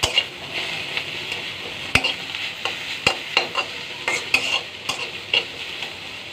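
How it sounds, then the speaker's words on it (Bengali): Kharkol leaves fry in mustard oil as they are stirred, with an even sizzle and a brisk run of sharp spoon scrapes and taps against the pan, close and clear, with no one speaking. "ভালো করে নেড়ে চেড়ে নিই"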